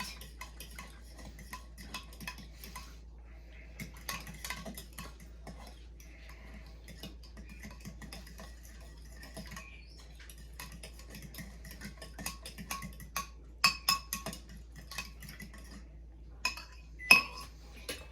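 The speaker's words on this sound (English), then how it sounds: "And you're just going to mix the yeast" A metal fork stirs yeast in a bowl, giving faint, quick clinks and scrapes in irregular bursts, with a few sharper taps against the rim near the end and no talking.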